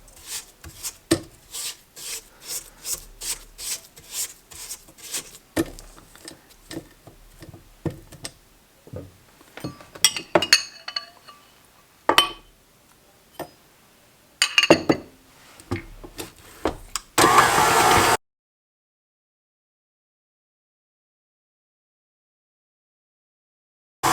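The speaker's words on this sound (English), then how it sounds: "we're going to start adding the eggs one at a time and mixing after each egg" Cake batter for a black walnut pound cake is mixed in a bowl as eggs go in one at a time, with a run of quick rhythmic scraping and clinking strokes, a few sharper knocks, then silence.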